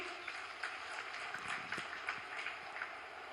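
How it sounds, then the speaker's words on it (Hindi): A large crowd applauds at a public government ceremony for development projects, a sustained far-off clatter of many hands with small rising bursts, fairly faint throughout. "जोरदार तालियां।"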